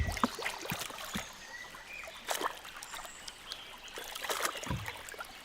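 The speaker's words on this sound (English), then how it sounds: "Gliding through the water without all the inconvenience of getting wet." A small boat gliding through water in the Carpathian Mountains, with soft, intermittent trickles and gentle splashes of water against the hull, faint and close, without talk.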